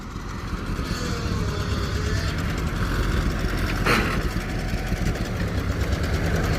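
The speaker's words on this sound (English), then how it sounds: "Tractor should be working better now since we hit the carburetor with a hammer." A tractor engine runs at a steady, close idle after a carburetor fix, a continuous low rumble with a faint knock and one brief clank midway.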